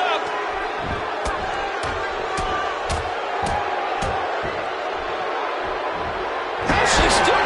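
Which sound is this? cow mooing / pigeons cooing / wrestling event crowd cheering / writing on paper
wrestling event crowd cheering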